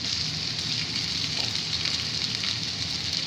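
Ginger garlic paste frying with softened onions in a pan for beef singara filling, giving a steady dense sizzle that stays even and close throughout, with no talking.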